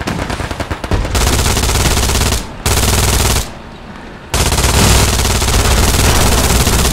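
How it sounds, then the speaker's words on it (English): MG42 heavy machine gun in Hell Let Loose fires from a bunker in loud, sustained bursts, with short gaps between volleys and a rapid mechanical rattle throughout. "these bunkers with the heavy machine gun is dream"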